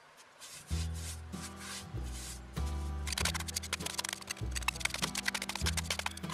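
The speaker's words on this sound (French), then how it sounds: "Une vieille ramassette permet de ne pas envoyer de la poudre partout en saupoudrant." Brick powder is sprinkled onto wet plaster from an old dustpan, giving soft rubbing, sifting and scraping sounds in repeated close strokes, with duller thuds and denser gritty scratching toward the end.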